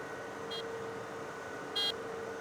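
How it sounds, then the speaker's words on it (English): A default vehicle horn in the Farming Simulator video game gives two short, high beeps about a second apart over a steady engine hum. "That sounds like a little motorbike or moped coming through."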